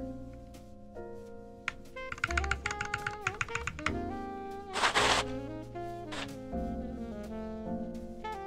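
Typing on an NK65 v2 aluminum keyboard fitted with Glorious Panda switches and PBT keycaps gives rapid, close clacky keystrokes in uneven bursts, with a few louder bottom-out thocks over a musical backdrop.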